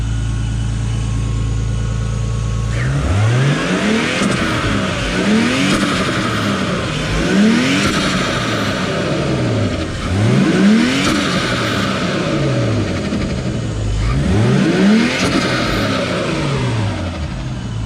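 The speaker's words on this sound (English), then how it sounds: "Let's give it a little bit of revs." An R32 Nissan Skyline, its engine idling and then repeatedly revved in several sharp blips, each followed by a loud recirculated blow-off valve whoosh, close by with no talking.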